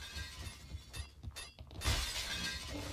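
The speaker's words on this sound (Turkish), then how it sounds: "Yine cam kırıyor." Glass shatters in the shooter game Point Blank, a bright crash that rings out and tails off amid ongoing in-game noise, with another burst of shattering close behind.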